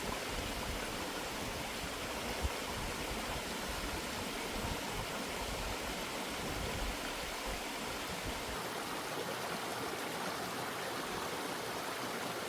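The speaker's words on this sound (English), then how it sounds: "you love the sound of running water." A small stream running near a van campsite, its water rushing in a steady, even hiss throughout, close and moderately loud with no talking over it.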